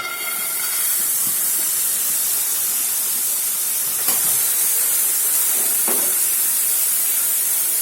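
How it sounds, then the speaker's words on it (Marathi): Cowpea seeds roasting in a hot pan, the same pan just used for chillies and garlic, over low flame. A steady, bright hiss fills the whole stretch, with a couple of faint rattling stirs and no talking. "सेम पॅनमध्ये आपण आपले दाणे भाजायला टाकूया"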